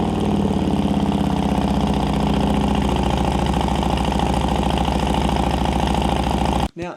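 A Harley-Davidson Road Glide ST fitted with a Bassani 2-into-1 stainless mid-length exhaust idles close by, with a loud, loping, deep pulsing rumble that runs steadily before it cuts off abruptly near the end.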